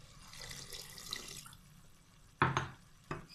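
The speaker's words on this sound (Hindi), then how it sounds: "अब मैं इसमें 1 गिलास पानी डाल दूंगी।" A glass of water pours into a pan of vermicelli, a soft liquid splash and gurgle following quieter stirring noise, with a second short splash shortly after.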